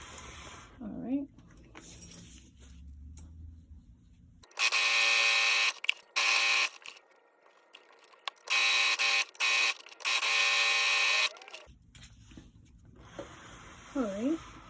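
A sewing machine stitching a handmade bag runs in several loud buzzing bursts of a few seconds each, close by, with pauses between runs and someone talking before and after.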